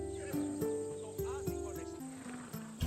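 A Macedonian war horse in the video game Assassin's Creed Odyssey, heard as a few distinct hoof clops and snorting over a sustained game music score, fairly near and moderately loud.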